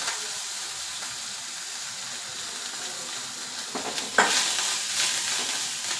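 Crushed garlic and coriander leaves sizzle softly in a pan. The quiet frying hiss runs steadily, then a few sharper clinks and scraping stir strokes come near the end, without talk.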